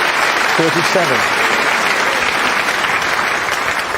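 Steady, loud applause from a snooker audience fills the space after a tough pot under pressure, with a commentator talking briefly over the clapping.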